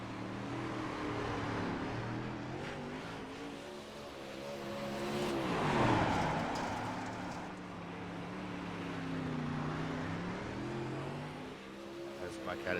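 A UMP modified race car engine in the iRacing video game at Lincoln Speedway roars continuously, pitch swelling and dipping as it accelerates and lifts, with one loud passing peak midway; a voice talks faintly underneath.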